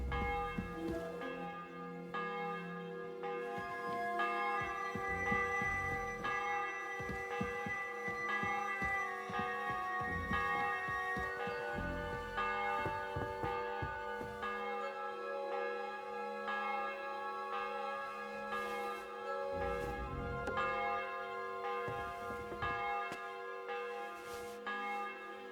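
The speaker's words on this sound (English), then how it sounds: "The bell's ringing for Hans the 5th time." A church bell in the medieval video game Kingdom Come: Deliverance II tolls repeatedly with long ringing overtones, strokes overlapping and sustaining steadily throughout at moderate distance, with no talk.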